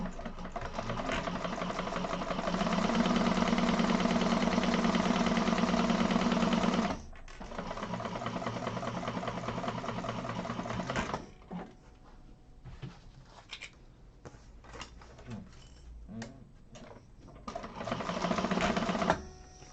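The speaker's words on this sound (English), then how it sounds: "we're going to sew this with a 1/4 of an inch seam allowance. I'm going to chain stitch it." A sewing machine chain-stitches a handbag seam with a quarter-inch seam allowance, humming in a long steady run and then stitching in shorter, uneven bursts that stop and start, close and fairly loud.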